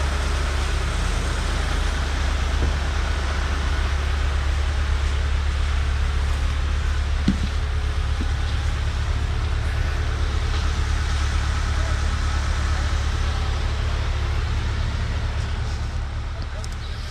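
Steady, loud diesel-type engine drone of a concrete pump running in a backyard while a shop slab is poured, a constant low rumble throughout with faint voices under it.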